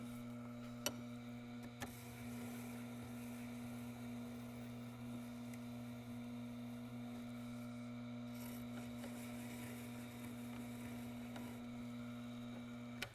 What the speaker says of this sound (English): just give that back edge a very quick polish